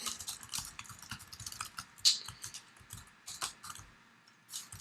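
Fingers type on a computer keyboard in quick irregular bursts of close, crisp key clicks with short pauses between runs. The typing is heard alone, with no talking.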